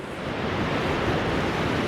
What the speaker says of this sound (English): because the waves are rolling in